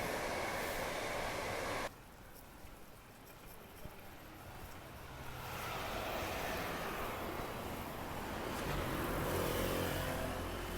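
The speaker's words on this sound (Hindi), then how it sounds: "ये देखिए गिडिया पार्क स्टेशन" Trains at Gidea Park railway station in London, heard as a broad rumbling rush of passing rail traffic that dips, then swells again steadily, moderately loud with no talk.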